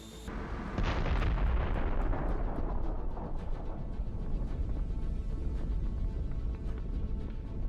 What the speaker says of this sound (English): after which we see an incredible explosion